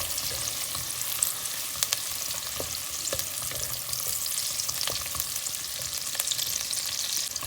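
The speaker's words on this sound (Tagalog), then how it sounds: "Adding the ginger." Ginger, onions and garlic sauté in a pan for chicken sotanghon soup, giving a steady, close sizzle with scattered stirring clicks and scrapes throughout and no talking.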